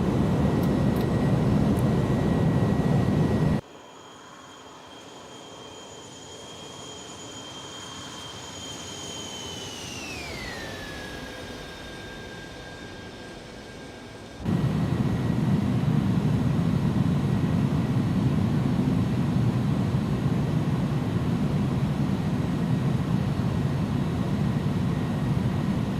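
Airbus A310 in the X-Plane 11 simulator climbing out after takeoff from Stuttgart, steady loud engine roar with a cockpit-level hum and gliding tones that shift downward midway as the gear retracts, the outside noise dropping and then returning.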